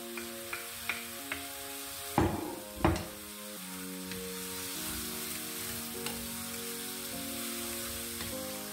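Beef frying in its own rendered fat in a pan for a spicy caldereta, a steady soft sizzle throughout with a few sharp clatters of stirring or utensil knocks and faint tonal music underneath.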